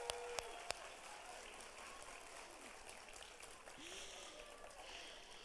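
An audience at a regional recognition ceremony for healthcare pathway students gives a round of applause for Farm Tech students; the clapping sounds faint and distant, with a few sharp clicks near the start.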